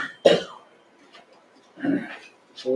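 A couple of short, muffled coughs a second or so apart during a county commission meeting vote, with a brief throat-clearing sound near the end, in a quiet room.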